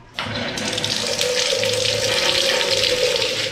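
Tap water runs steadily into a sink in a resort bathroom in Zamboanguita, a continuous close gush starting abruptly and holding at an even level throughout.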